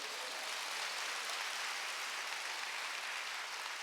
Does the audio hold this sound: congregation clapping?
yes